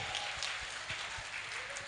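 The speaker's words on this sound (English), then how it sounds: "may we have the most tremendous applause from all of you for our event today" Audience applause at an academic conference ceremony, a steady broadband wash of many hands clapping that fills the whole stretch at moderate loudness, with no voices standing out.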